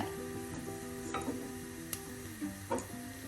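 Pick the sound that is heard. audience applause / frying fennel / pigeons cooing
frying fennel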